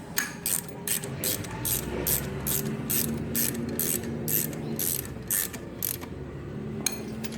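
A hand ratchet clicks in quick, even strokes while tightening bolts that hold an engine onto an engine stand, about a dozen crisp close clicking bursts in steady rhythm against quiet workshop background.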